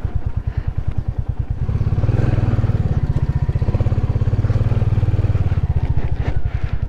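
A motorcycle riding off-road on a North Bengal trail, its engine thumping in a fast, steady rhythm close by, swelling louder under throttle mid-ride, with no talking.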